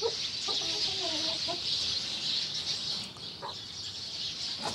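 Young chicks pecking at rice, with soft clucks and chirps close by over a constant bright hiss of background noise.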